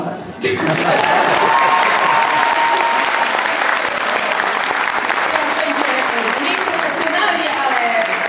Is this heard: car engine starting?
no